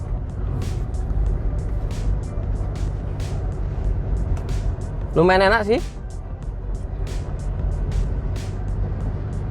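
Toyota Innova Reborn diesel automatic car running steadily with a low, continuous engine and road rumble, while a person speaks briefly over it midway.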